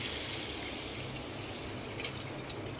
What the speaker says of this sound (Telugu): 1 లీటరు వాటర్ పోసుకుంటున్నాను.